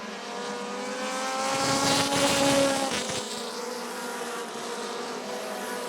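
Race cars on a short track oval at Rockford Speedway run single file in an American Short Tracker feature, their engines a steady, buzzing roar that swells as the pack passes close, then settles back to a continuous drone.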